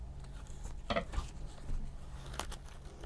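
Scissors cut foam while a puppet is being made, a few quiet snips and soft crinkles spaced out close by, under faint room background without talk.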